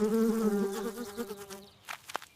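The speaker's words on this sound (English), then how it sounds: "Ugh, a mosquito bit me." A mosquito buzzing close by, a steady whining hum with a slightly wavering pitch that fades out after about a second and a half, followed by a few faint knocks.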